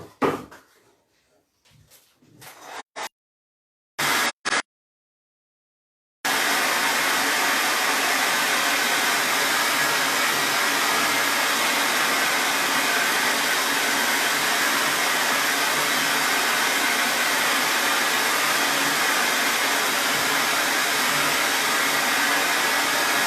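A dryer blows to dry craft work. A few light knocks and handling noises come first, then a brief pause, followed by a steady, loud, close blowing roar that lasts to the end.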